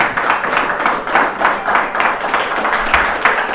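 A church congregation claps together in steady rhythmic bursts as an offering of praise to Christ, a dense, continuous wash of many hands filling the room with no voices over it.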